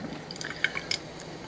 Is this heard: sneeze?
no